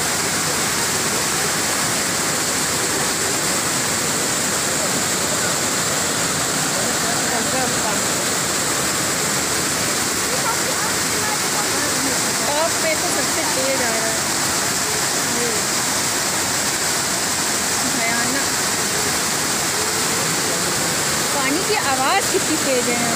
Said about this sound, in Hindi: आवाज कितनी तेज है यहाँ पे।